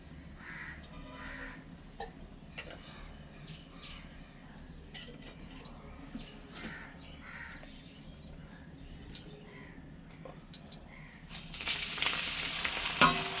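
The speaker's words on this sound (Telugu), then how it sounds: "ఇప్పుడు ఇందులోనే కొంచెం ఆయిల్ పోసుకొని గోంగూరని ఫ్రై చేసుకుందాం." Gongura sorrel leaves fry in oil in a pan for a Telugu roti pachadi, at first a low simmer with occasional clinks and stirring taps, then a sudden loud sizzling rush near the end, with crows cawing in the background.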